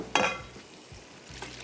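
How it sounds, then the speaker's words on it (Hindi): Sliced onions frying in a pan for a chana kofta gravy, a sharp sizzling burst at the start, then a softer steady crackle with faint stirring scrapes, heard close and alone. "ग्रेवी के लिए मैंने यहाँ पे प्याज शामिल कर दिए स्लाइस किए हुए, और इनको हम करेंगे फ्राई"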